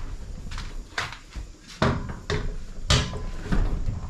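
Horse trailer door being opened by hand, a run of knocks, clanks and rattles with a few sharper metallic bangs, close by and uneven, with no talking.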